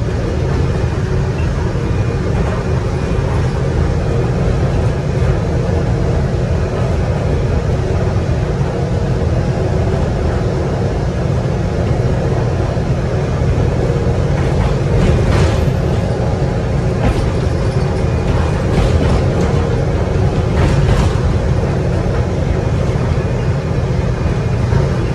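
A steady, loud mechanical rumble and hum of a small automated personal rapid transit car riding along its track in Morgantown, West Virginia, continuous throughout with a few faint clicks.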